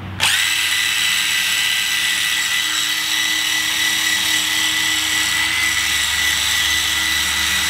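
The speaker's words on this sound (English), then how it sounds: "you can attach a little wire wheel on a drill" A power drill fitted with a wire wheel spins up sharply and runs at a steady high whine with a harsh grinding edge as it scrubs rust off metal, continuous and close for several seconds.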